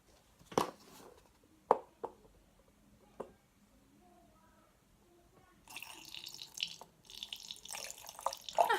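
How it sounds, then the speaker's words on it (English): Water poured through a funnel into a bottle for a homemade facial mist: a few drips and small clinks come first, then a steady splashing, trickling stream that runs in close bursts with a short pause. "And then I'm going to go ahead and add the water."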